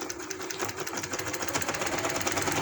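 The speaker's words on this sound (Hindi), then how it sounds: "तो इसी तरीके से उतनी लेस को बाहर रखते हुए तो मैं पाइपिंग पे सिलाई लगा देती हूँ।" A sewing machine stitches lace onto fabric piping in a quick, steady, rattling run that stays fairly quiet and close throughout, with no voices.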